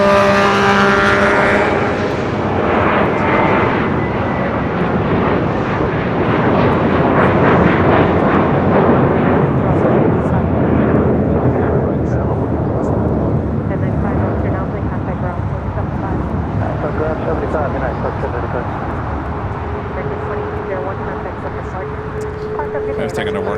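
Lufthansa jet airliner departing LAX, a loud sustained engine roar that fills the whole stretch and eases slightly toward the end, with talk over it.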